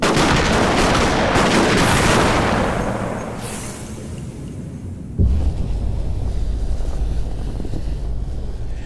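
Gunfire in a Necromunda trailer: a loud burst of rapid shots and blasts at the start fading into a rushing roar, then a heavy boom and a low rumbling wind-like drone to the end.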